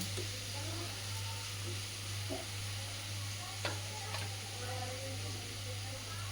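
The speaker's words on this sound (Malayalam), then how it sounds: "നമ്മളുടെ മാങ്ങ കഷ്ണം കുറച്ച് നേരം ഇതുപോലെ കുറച്ച് നേരം ഒരുപാട് വേവിക്കാതെ കുറച്ച് നേരം ഇതുപോലെ ഒന്ന് വാട്ടിയെടുക്കാം" Mango pieces sautéing in a pan for Kerala mango curry give off a steady, faint sizzling hiss, with a few soft stirring scrapes and a low hum running underneath.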